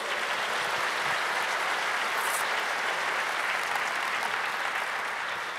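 A church congregation applauding together, a steady dense wash of clapping that holds at full strength from start to finish with no voices above it.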